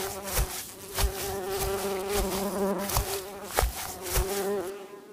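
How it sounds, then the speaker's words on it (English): Bees buzz steadily around a beehive, a dense droning hum with wavering pitch and small pulsing swells, close and continuous before fading at the end. "It's a beehive."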